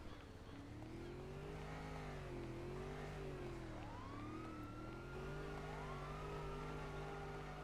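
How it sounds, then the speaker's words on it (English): Boat engine in the GTA 5 video game, a loud steady droning hum with wavering pitch and rising whines layered on top, heard alone. "There's something with loads of engine noise."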